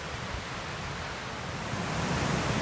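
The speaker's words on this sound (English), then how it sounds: "Obviously that's Meadow Creek." Meadow Creek flows beside a trail shelter near Lake Chelan, giving a steady, moderately loud wash of moving water that swells slightly toward the end, with no voices.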